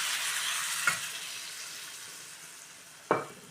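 A bowl of water goes into a hot pan of spiced raw mango over very low heat, giving a steady sizzling hiss that slowly fades, broken by two sharp utensil clinks, with no talking.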